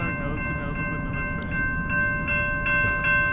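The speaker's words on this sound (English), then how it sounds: "it should be taking a time lapse of the train going over it" A freight train rolls past nearby over tracks being drilled beneath, with a heavy, steady rumble, while a sustained high tone rings over the noise throughout.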